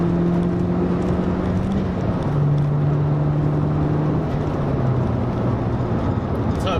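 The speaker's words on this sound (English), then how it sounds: "The turbo sounds nice, and it feels good to drive." A turbocharged car accelerates through the gears, giving a loud, continuous engine drone with a steady whining tone that holds, then steps lower and climbs again, heard from inside the cabin.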